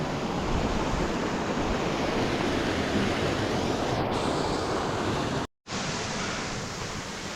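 Rushing water at the top of Babarakanda waterfall in Sri Lanka makes a constant, dense roar that dominates throughout and is briefly cut by a short dropout near the end, with no voices.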